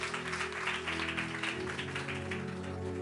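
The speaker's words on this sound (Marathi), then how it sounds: "जरा जोरदार टाळ्या वाजव" A congregation at a church sermon claps together. Dense, sustained applause runs for the whole stretch at moderate loudness, with a low hum of a sound system under it.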